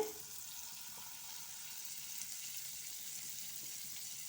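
Butter sizzles in a hot pan over a medium flame, a faint, steady hiss and crackle that goes on throughout with no talk.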